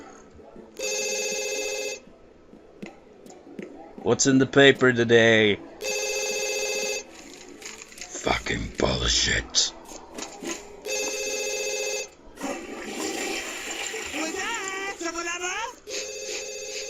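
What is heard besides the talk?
telephone ringing in The Sims 2 video game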